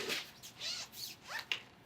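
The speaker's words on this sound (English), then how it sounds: "and then zip it back around" Zipper on a 5-in-1 photo reflector's cover being pulled around the disc edge in several quick rasping strokes, close and moderately quiet, with no talking.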